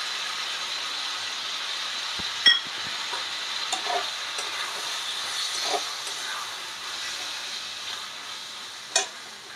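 Sauce poured into a pan of softened frying onions and vegetables for a fish chili dish sets off a steady sizzle, with occasional clinks and stirring scrapes over the hiss.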